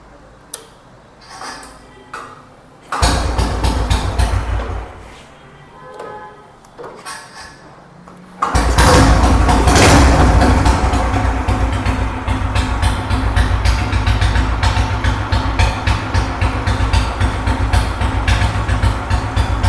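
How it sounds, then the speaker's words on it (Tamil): After some quiet ticking and clicking, a vintage vehicle's engine cranks and catches, then settles into a loud, steady idle that rumbles on. "நான் இன்ஜின் இப்போ ஸ்டார்ட் பண்ணி காமிக்கிறேன்."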